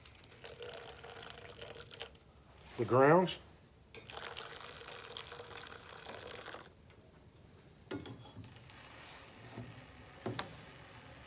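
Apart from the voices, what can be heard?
water poured over coffee grounds in a French press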